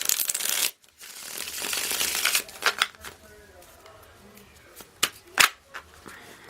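Tarot cards being shuffled by hand in a quiet room, a run of soft riffling bursts and crisp slaps of the deck, some louder single snaps, with pauses between.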